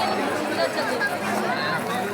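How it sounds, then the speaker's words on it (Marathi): Crowd chatter at a busy Saturday market, an indistinct babble of many voices with a nearby speaker talking over it. "गर्दी आहे."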